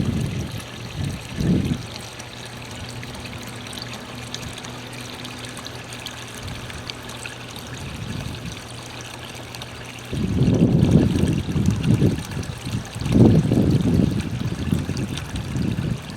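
Pool water drains into the skimmer with a gurgling, trickling flow, steady at first and then growing louder and more turbulent in churning bursts partway through.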